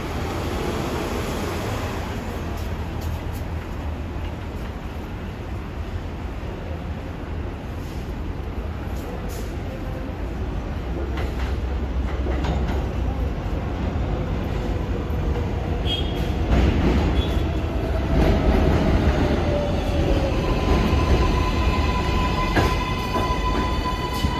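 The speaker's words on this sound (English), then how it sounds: "This is a Flushing Main Street bound 7 local train." An R188 New York subway 7 train rumbles into 74th Street–Broadway station, growing louder as it nears, with squealing wheels and brake screeches toward the end over a steady roar.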